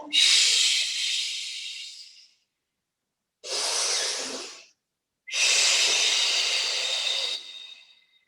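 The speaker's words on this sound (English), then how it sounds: "Listen to the breathing" Three long breaths, in and out, hiss close to the microphone, separated by brief silences.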